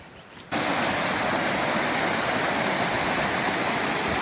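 A mountain stream in the Cheviot hills of Northumberland rushes in a steady, close, broadband wash of flowing water that cuts in after a brief quieter moment and then runs continuously without talk.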